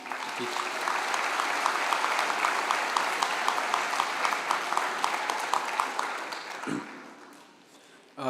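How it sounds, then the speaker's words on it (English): Audience applause for the faculty at a Chatt Prep high school commencement ceremony, a steady wash of many hands clapping for about seven seconds before fading out, with faint voices underneath. "Can you please applaud for the faculty?"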